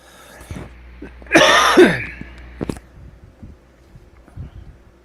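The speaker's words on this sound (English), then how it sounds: "Are you hearing very directly me coughing when I cough?" A sharp, forceful cough bursts out close to the microphone, followed by a few quieter throaty sounds and faint shuffling.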